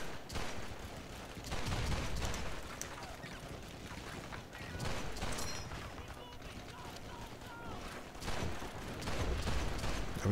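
Rifle and machine gun fire in Call of Duty 2 crackles as scattered, fairly faint battlefield shots and bursts, mixed with game sounds and talking throughout.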